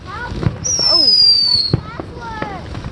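Fourth of July backyard fireworks go off close by, with a long whistling screech and sharp pops, while several people exclaim and chatter over them.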